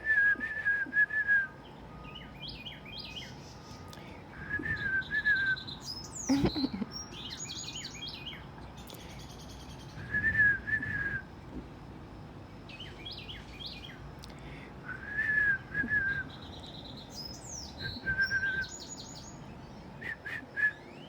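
Wrens and other birds sing outdoors, with bright whistled trills and chirping phrases repeating every few seconds at moderate distance, a person speaking quietly at times between them.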